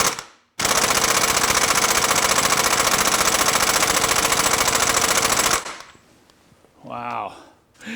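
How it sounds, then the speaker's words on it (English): A 1/2 inch impact wrench hammers loud and close on a rust-seized nut of a 1976–1985 Mercedes OM617 diesel, rattling without a break for about five seconds before stopping, followed by a brief voice. "Now I'm going to get my impact on this"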